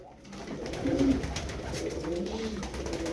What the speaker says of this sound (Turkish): 13 tane kuş var burada.